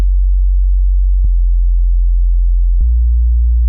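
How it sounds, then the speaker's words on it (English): A synthesized sub bass for a jazzy electronic track holds a loud, pure, steady low tone, shifting pitch twice in a simple held progression, alone with no other sound. "you like jazz, and there's like a sub bass."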